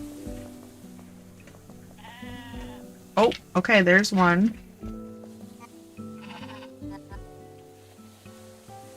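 Sheep bleat in the Discounty video game DLC: a few quavering, wavering bleats cluster near the middle over soft background game music, with someone speaking briefly elsewhere.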